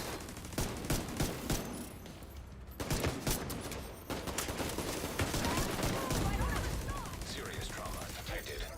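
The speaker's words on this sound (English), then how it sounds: "Who is shooting me?" Gunfire in the video game The Division 2, with bursts of rapid shots and single cracks coming in rhythmic clusters, then denser fire with chirpy tones and a voice speaking over it.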